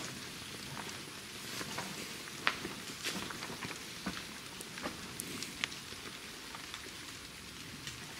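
Steady rain patters over a surface at old ruins, a dense hiss broken by occasional sharper drops, with no voices present.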